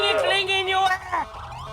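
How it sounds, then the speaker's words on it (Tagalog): A police siren wails close by, its rising and falling tone sweeping loudly, then breaking off briefly and resuming, with excited voices shouting over it. "ingay ng wangwang!"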